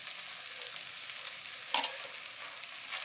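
Capsicum and onion stir-fry sizzling gently in a pan as peanut powder is mixed in, a quiet continuous frying hiss with one brief louder scrape of stirring midway.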